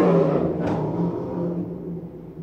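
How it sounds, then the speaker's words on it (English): A noisy little white pickup truck passes by with a loud engine rumble that swells briefly and then slowly fades as it drives away. "A noisy little white pickup truck."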